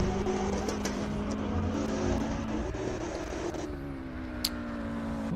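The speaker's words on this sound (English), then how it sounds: "Lots of pops and bangs." Lotus race car engine running at a hill climb, a steady droning note with rising harmonics as it revs, plus a single sharp pop near the end over the continuous motor noise.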